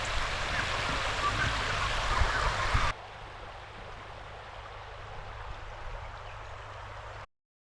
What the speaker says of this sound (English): it's got a lovely stream of water running over the rocks